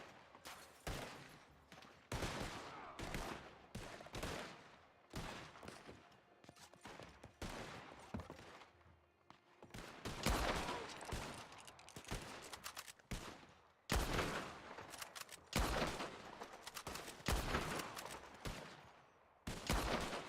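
Gunfire in the video game Red Dead Online, with sharp, loud shots fired in rapid irregular bursts that repeat across the whole stretch.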